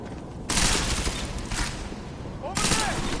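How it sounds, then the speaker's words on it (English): Sustained bursts of rapid gunfire in the shooter game Deus Ex: Mankind Divided, loud and dense, coming in waves with brief lulls and overlapping voices. "Just keep shooting!"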